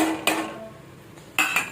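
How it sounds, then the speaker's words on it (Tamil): Metal strikes a pan twice while egg is chopped into kothu parotta, two sharp clanks about a second apart over a low background. "போட்டுட்டு இப்போ இந்த முட்டையும் போட்டு நல்லா கொத்துன்னு"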